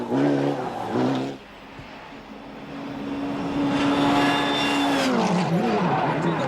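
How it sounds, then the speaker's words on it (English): A brand-new Mitsubishi Lancer rally car at the 1995 Catalunya Rally blasts past on tarmac, its engine note sweeping loudly, dropping briefly, then rising again in a long revving pass with some tire scrub, no voices. "Brand new Lancer, obviously a handful,"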